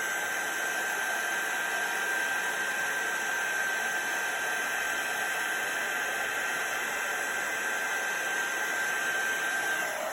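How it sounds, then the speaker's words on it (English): A heat gun blows steadily to melt embossing powder on a handmade Christmas card, giving a constant airy whoosh with a thin high whine all the way through. "I'm just moving the heat gun over the image like so."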